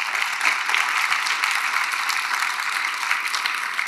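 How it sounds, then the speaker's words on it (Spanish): A church congregation applauding during a Spanish-language sermon, an even wash of clapping that holds steady and fairly close for a few seconds without speech. "Dale un aplauso al Señor por eso."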